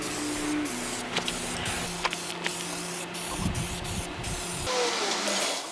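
Spray paint hisses onto welded metal legs for an industrial console table, a steady close spray broken by brief pauses, with faint workshop noise underneath.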